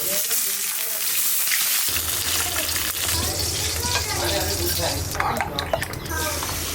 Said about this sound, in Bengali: তাই ভেজে দিই